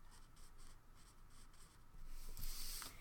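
Jane Davenport alcohol markers stroke across paper in quick repeated scratchy passes with a soft rhythmic rub, growing louder and denser toward the end, quiet and close, with no voices.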